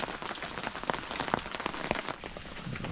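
Rain falls steadily on a surface, a soft dense patter with scattered sharper drops, fairly faint and continuous with no talking.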